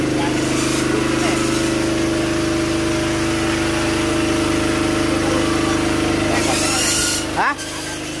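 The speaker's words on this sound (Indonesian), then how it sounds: "Jadi alkonnya untuk penyedot air, diesel penyedot air dimatikan dulu." A diesel water pump engine runs steadily at a well drilling site in a village cemetery, its loud even drone close by and continuous until a brief clunk near the end.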